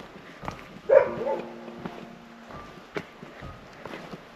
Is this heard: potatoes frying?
no